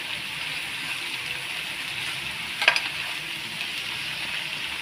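Shredded cabbage fries in a pan for a potato-cabbage sabzi, giving a steady, moderately loud sizzle throughout with a brief louder crackle of stirring midway and no talking.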